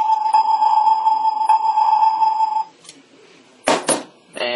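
A steady electronic sonar-style beep tone from a Transformers Energon Optimus Prime toy submarine holds for a few seconds, then cuts off, followed by a couple of short bursts of static-like noise.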